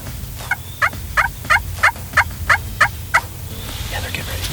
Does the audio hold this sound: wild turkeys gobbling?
yes